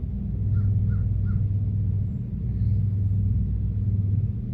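A crow gives a short run of three caws, fairly distant, over a steady low rumble like passing traffic, then another faint call follows.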